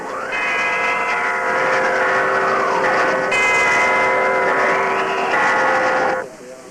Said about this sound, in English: all the church bells in town are tolling wildly in the winds